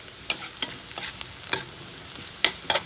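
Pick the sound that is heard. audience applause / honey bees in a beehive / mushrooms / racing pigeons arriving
mushrooms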